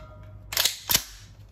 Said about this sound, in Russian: Следующая HK416 на грин-газе.